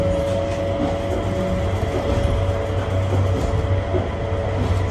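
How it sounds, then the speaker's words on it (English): Inside the Miami airport people mover, a steady low rumble and rolling rail noise carry on throughout the ride, with a constant hum and no voices. "Luckily, Miami had this little train that we took to be able to skip the walking because we were tired."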